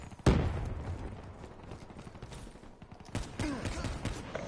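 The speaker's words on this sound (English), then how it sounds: "Shooting grenade." Grenade launcher firing in Call of Duty, a sharp close blast followed by rumbling battle noise and a second burst of heavy impacts.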